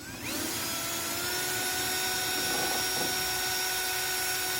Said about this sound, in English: Get a little pilot hole started